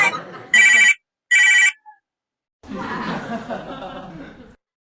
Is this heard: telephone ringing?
yes